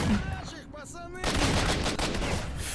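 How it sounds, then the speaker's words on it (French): Rifle fire on single-shot mode in the video game STALKER: Shadow of Chernobyl, in the underground tunnels of Agroprom. A short voice comes first, then a loud gunshot blast with a sustained rumbling tail. "je sais pas pourquoi je suis en coup par coup sur le fusil"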